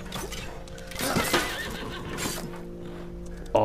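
Horses in the Greek-mythology action video game Apotheon whinny and neigh over galloping hoofbeats and battle noise, with a sharp louder burst at the end, no speech.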